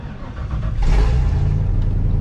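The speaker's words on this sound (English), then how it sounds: "And it's pretty loud. It's just straight piped with an X pipe." A straight-piped race truck exhaust with long tube headers and an X pipe rumbles loud and deep, swelling from a steady drone into a harder rev partway through and holding there, with no talk over it.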